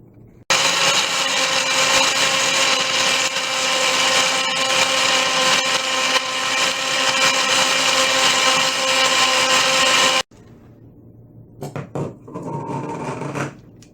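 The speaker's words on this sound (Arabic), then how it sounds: "فقم بإضافة الثلج إلى عصير قمر الدين الخام في الخلاط" A loud blender roars continuously for about ten seconds, crushing ice in qamar al-din apricot juice, then cuts off, leaving a few quieter rattles and knocks.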